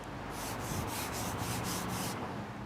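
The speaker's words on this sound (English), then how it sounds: "That is me gently gliding over the paint." A hand glides gently over contaminated white car paint, making a dry, gritty rubbing scrape that sweeps back and forth in about six quick passes, close and alone.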